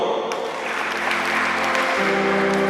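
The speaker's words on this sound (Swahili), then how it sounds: "Jipigie makofi" Wedding guests applaud together in a steady, dense wash of clapping, loud and continuous, with a low musical tone running underneath throughout.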